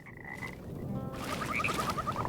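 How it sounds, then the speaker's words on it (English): A big frog croaks in the dark fantasy game Mortal Shell near a river, a quick run of repeated croaks that grows steadily louder over a dense watery ambient bed. "Look at that big ass frog. That is a really big frog."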